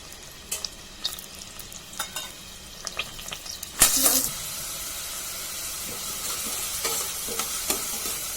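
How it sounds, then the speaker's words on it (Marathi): Two large onions go into hot oil for chicken kolhapuri: a few close stirring clicks and knocks, then a sudden loud burst of sizzling that settles into a steady, crackling fry. "तेल तापत आलं की मग कांदा टाकूया दोन मोठे कांदे घेतलेले आहेत मी"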